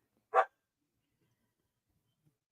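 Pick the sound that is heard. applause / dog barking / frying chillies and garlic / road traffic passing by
dog barking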